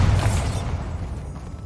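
A Bombarda explosion spell from Hogwarts Legacy lands as a loud boom with a bright crackling burst at the start, then settles into a lower rumbling tail that slowly fades.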